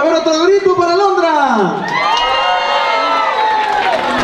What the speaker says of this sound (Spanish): a ver otro grito para Alondra.